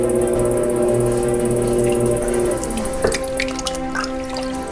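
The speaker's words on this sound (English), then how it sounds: "Now I'm going to go in with my sponge, get a little bit of the water out of the bottom." A sponge presses into wet clay inside a pot spinning on a pottery wheel to soak up water from the bottom, giving close, loud drips and squelches over the steady hum of the wheel motor.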